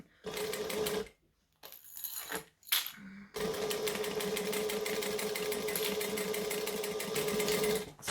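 Sewing machine stitching the lining side of a fabric bag, a short burst of rapid whirring stitches, a pause with small handling noises, then a long steady run of close, even mechanical stitching.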